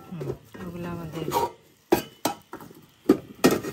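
Cooking pots handled at a family picnic in Purbachal: a few sharp metallic clanks and knocks, spaced out, following a stretch of nearby talk.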